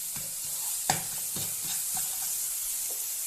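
A spatula stirs and scrapes a grated coconut, jaggery, cardamom and nut filling in a hot pan, several distinct scraping strokes over a soft continuous sizzle, close and fairly quiet.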